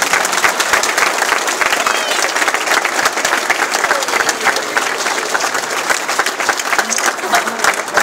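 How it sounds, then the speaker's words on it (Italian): Loud, dense applause from a gathered crowd at the inauguration of a new parish oratory in Aquino, continuous clapping sustained evenly from start to finish, close and full. "Un applauso."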